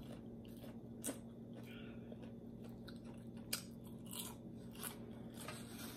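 Someone eats Popeyes fried chicken up close in a quiet room, soft crunchy bites and wet chewing sounds arriving in irregular bursts over a faint steady hum.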